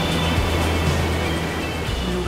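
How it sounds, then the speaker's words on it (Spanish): Water rushing through the Meléndez river basin in a forest national park, a loud continuous broadband roar with low rumbling underneath and no voices. "Aquí nace, vive y ruge el agua."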